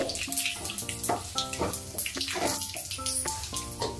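Crushed garlic, mustard seeds, urad dal, cumin and dried red chillies sizzle in hot oil, a dense continuous crackling hiss with faint tonal sounds running over it.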